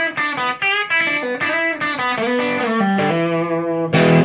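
An electric guitar through an Artec QDD Distortion Driver plays with heavy overdriven distortion, chords and single notes ringing out loud and sustained, ending on a strummed chord. No talking.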